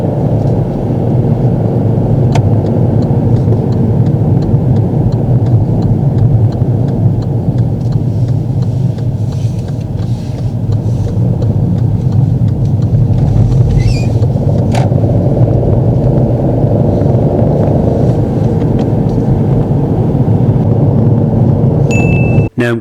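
A car on a driving test rolls through a roundabout, a steady low engine rumble and road noise holding constant from inside the cabin, with faint brief clicks and no speech.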